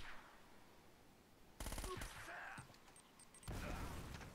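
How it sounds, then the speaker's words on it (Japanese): Gunfire and a blast in the video game Uncharted: El Dorado's Treasure, sudden loud bursts of shots and a booming crash cutting in twice over a quiet game background. "なんで何が爆発したの今。"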